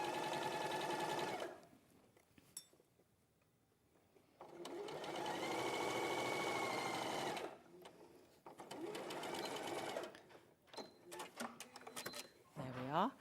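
A sewing machine stitches across the top of a dress in three or four bursts of steady, close whirring, broken by short pauses and lighter clicks as the fabric is adjusted.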